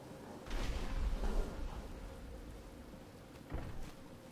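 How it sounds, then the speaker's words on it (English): Rain falls inside a hallway in the Batman: Arkham Asylum video game, a soft, distant patter with two louder swelling rushes, one early and one near the end, and no talk over it. "And it's raining inside."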